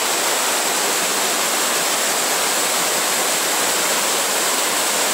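A powerful waterfall in Epuyén, Patagonia roars as a dense, continuous rushing wall of water, loud and unbroken from start to finish.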